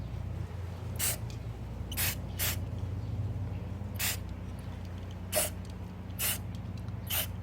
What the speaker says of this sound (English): you're going to take your spray and spray paint